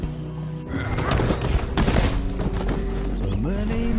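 A horse in a video game whinnies and snorts over the clatter of hooves and creaking gear, loud and close, with low rumbling underneath and no talk.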